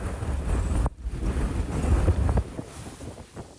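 Typhoon in Taiwan with torrential rain and gusts topping 220 km/h, heard as a loud, steady roar of wind buffeting the microphone, with a brief dip partway through.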